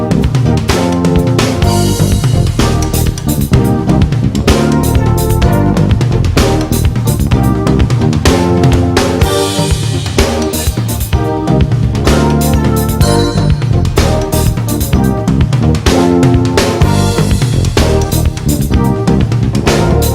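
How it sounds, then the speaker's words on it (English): Busy live drum kit playing a dense pattern with accents spread across toms, rim and cymbals, loud and continuous with rapid strokes and crashing cymbal wash, played alone without talk. "bring it over to the drums and orchestrate that pattern on the toms"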